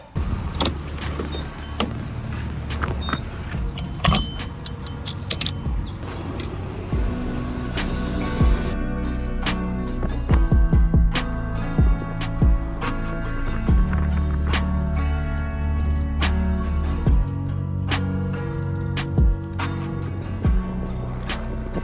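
Steady road noise and engine hum of a car driving along, with occasional thumps, clicks and rattles inside the cabin over the continuous drone.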